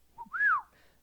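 A voice imitates a faint, rising-and-falling chirping whistle, one short tone followed by a longer sliding note, standing in for a sound from outside in a jungle tomb adventure game.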